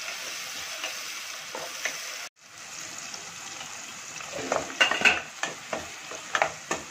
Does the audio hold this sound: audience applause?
no